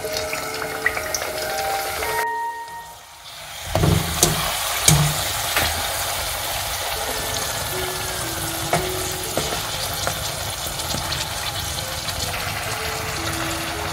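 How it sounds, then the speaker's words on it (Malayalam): Kozhikodan irachi pathiri, a stuffed meat flatbread, frying in hot oil in a pan: a steady, bright sizzle with a few crackles and pops, briefly dropping when the pathiri goes in before settling into a continuous crackle. "ഇതിലൊന്ന് ഫ്രൈ ചെയ്തെടുക്കാം."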